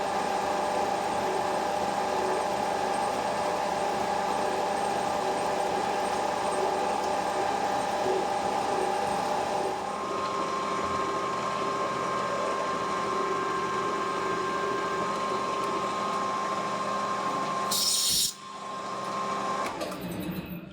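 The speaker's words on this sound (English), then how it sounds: "I'm going to drill and tap that 10mm thread." A lathe drills and taps a 10mm thread in a part held tight in a collet, giving a steady whirring machine drone with tonal hum, which shifts partway through and ends with a brief sharp burst before slowing.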